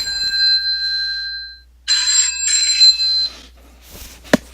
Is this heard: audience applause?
no